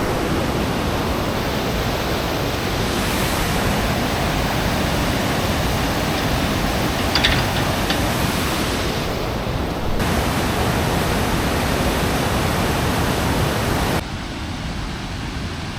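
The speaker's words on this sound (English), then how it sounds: "There's the main waterfall I was telling you about." A waterfall rushing after a day of rain on a hike from Drimsynie Estate, a dense continuous roar that fills the whole clip, loud and steady, easing slightly near the end.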